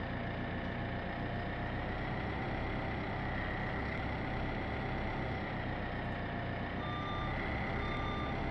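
A telehandler in Farming Simulator 17 idles with a loud, constant engine drone while its reversing alarm beeps repeatedly and evenly, close and alone with no speech.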